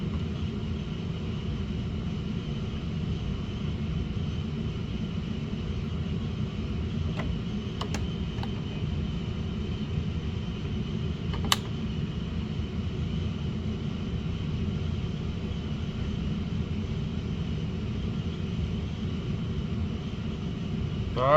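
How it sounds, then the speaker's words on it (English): An RV rooftop air conditioner with its compressor running gives a constant low hum and droning rumble, steady and moderately quiet, with a couple of faint brief ticks partway through and no talk. "Compressor kicked on the second unit."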